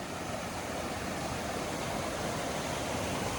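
A small waterfall, formed where a log and woody debris dam a mountain stream over a rock step, gives a steady, soft, even rush of falling water with no other sounds.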